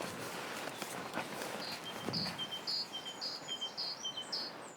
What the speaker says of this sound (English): I hope you can hear those birds.